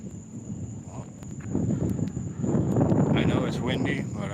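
Gusty wind blows outdoors at Fort Monroe, Virginia, near an old clock tower: a continuous low, rough rumble buffeting the microphone that grows stronger about halfway through and stays loud.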